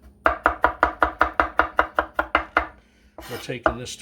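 A knife minces a couple of garlic cloves on a board in about fourteen quick, evenly spaced chops, close and crisp, followed by a softer scrape and shuffle at the end.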